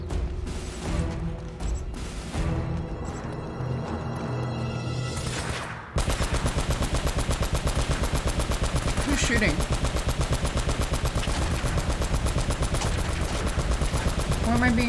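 M4 rifle gunfire in the video game Uncharted: Drake's Fortune, rapid bursts of shots that give way to sustained automatic fire over game music and effects, with a voice talking at times.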